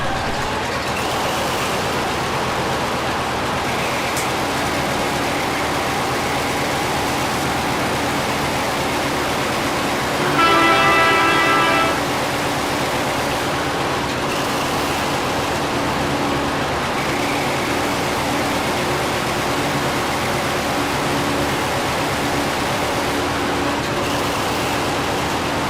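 Diesel engines on a Fell locomotive start and run as a steady, dense roar that fills the whole stretch, with a brief louder tonal burst partway through and no talk.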